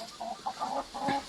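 A hen clucks in a handful of short, close bursts, with brief gaps between the calls.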